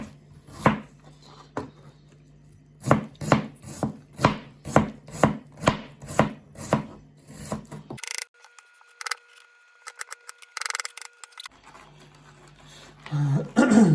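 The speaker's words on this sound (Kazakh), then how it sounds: "Жуамызды турап аламыз, жақсылап ұсақтап" An onion is chopped with a knife on a board in a quick run of about a dozen sharp, evenly spaced close knocks, followed by a pause and a few more scattered cuts.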